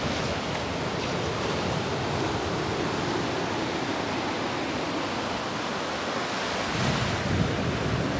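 Ocean surf rolls in at Praia Rasa beach in Búzios, Rio de Janeiro, as a steady broad wash of waves mixed with wind buffeting the microphone, continuous and fairly loud throughout, with no voices.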